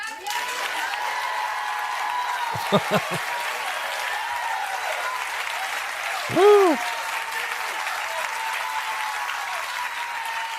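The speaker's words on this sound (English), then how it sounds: "Look at this fake standing ovation." Steady studio audience applause during a standing ovation on a TV show, a continuous wash of clapping throughout, with a couple of brief louder thumps and a whooping cheer partway through.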